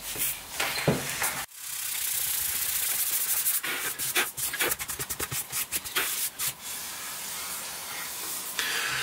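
Fine-grit sandpaper rubs across the body of a PRS-style DIY guitar kit, a breathy hissing scrape that starts and stops, with quick back-and-forth strokes bunching together in the middle.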